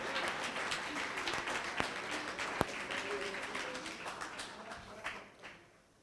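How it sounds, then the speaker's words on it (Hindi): Soft, continuous clapping from a gathering at a guru's mother's birthday celebration, fairly distant and even, with an occasional sharper tap, fading toward the end. "तालियां मारते रहो"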